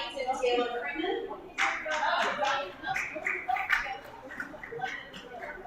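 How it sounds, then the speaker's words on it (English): Students London Wright and Taylor Freeman receive audience applause at a Teaching Africa Day event, a steady patter of clapping from a seated crowd with voices talking over it throughout. "Round of applause for London Wright and Taylor Freeman."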